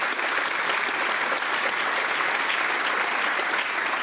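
Sustained applause from the audience in the Irish parliament, a dense, even roar of clapping that holds at full level throughout with no pauses.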